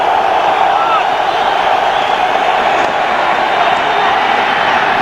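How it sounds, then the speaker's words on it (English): New York Jets football stadium crowd on its feet, a dense steady roar of cheering throughout, with the game call running over it. "3rd and 18, Jet crowd to its feet."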